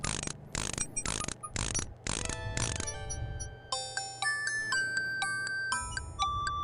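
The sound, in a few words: mechanical nightingale singing a tinny tune, King's Quest 6 video game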